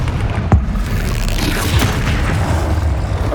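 The Confringo fire spell explodes during a Hogwarts Legacy combat battle, a sharp boom followed by a dense, rumbling low roar that stays loud and continuous amid the fight's clutter.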